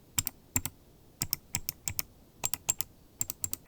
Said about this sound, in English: You can both feel and hear the actuations.